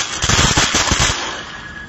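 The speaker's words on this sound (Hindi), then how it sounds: "दोस्तों अब 2 चला के देखते हैं कैसे चलते हैं" Small chutput firecrackers burst during Diwali as a rapid, loud crackling string of sharp pops, close by, that fades off after about a second.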